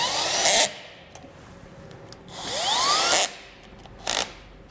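A power drill with a Phillips bit drives screws while a trailer brake controller is fitted to a 2011 Toyota RAV4. Whirring bursts rise in pitch and then stop, loud and close.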